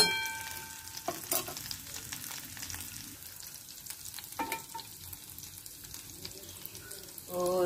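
Ginger is sautéed in a pan, with a soft continuous sizzle under occasional stirring scrapes and light clinks, fairly quiet and close.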